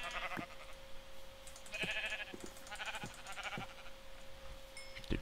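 Minecraft sheep bleating repeatedly in short, clear calls over a faint steady hum, several bleats spaced a second or so apart, no talking.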